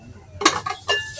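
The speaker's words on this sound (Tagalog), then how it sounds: "Lalagay ko na lang siya dito sa isang mangkok na to." Leftover food is scooped into a bowl, and two or three quick clinks of dishes and utensils ring out close by in short bursts.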